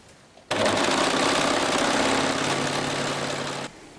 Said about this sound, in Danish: Så er vi rykket tilbage til symaskinen, og vi skal have syet vores slisser.